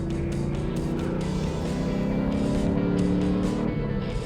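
A sports car engine holds a loud, steady roar that rises slightly under acceleration, with a strong low drone and wavering harmonics running continuously close up, no voices.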